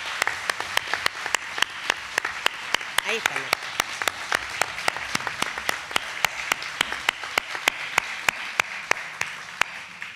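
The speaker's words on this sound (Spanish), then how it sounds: "para la cual pide un aplauso" Rhythmic, sharply defined clapping from an audience at the opening of an intergenerational seminar for older adults, an even beat of roughly three claps per second continuing for ten seconds, with a voice speaking faintly underneath.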